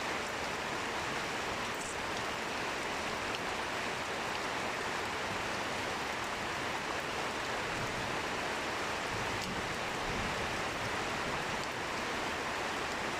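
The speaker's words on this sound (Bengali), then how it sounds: "বৃষ্টি নামতেছে" Rain falls at night in rural Paruliya, Kashiani, Gopalganj: an even, steady hiss of downpour holds unbroken from start to finish, with no voices.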